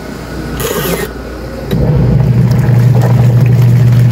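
A washing machine motor, newly fitted with a repaired capacitor, kicks in partway through on a strong wash setting and settles into a loud, steady low hum of fast spinning after a quieter, rattly start.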